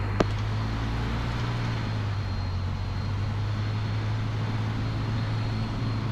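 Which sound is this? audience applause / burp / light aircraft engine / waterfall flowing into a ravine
light aircraft engine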